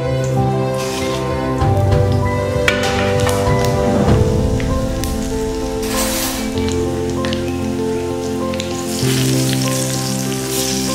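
A mixed spice blend heats in mustard oil in an iron wok for mango pickle, giving a dense continuous sizzle and crackle, with a louder stretch early on, and no voices.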